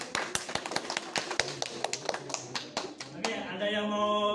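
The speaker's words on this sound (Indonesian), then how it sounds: "Bagus, beri tepuk tangan." A classroom of students claps hands in scattered, uneven bursts, close and moderately loud, ending as a voice begins speaking over the last claps.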